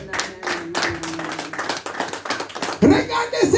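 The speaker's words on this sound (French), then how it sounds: "Est-ce qu'on peut acclamer pour la" Audience at a church sermon clapping in rhythmic bursts, with a preacher's voice speaking over and between the claps.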